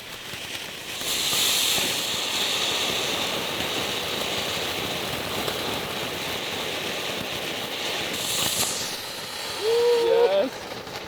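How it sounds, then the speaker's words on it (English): Steady hissing crackle of fireworks burning, with a couple of brighter bursts and a whistling squeal near the end, loud and close. "I decided to get him fireworks today"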